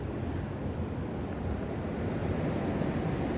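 Ocean surf rolling in near a beach storm drain, a steady low rumbling wash with wind buffeting the microphone, continuous and fairly close, no voices.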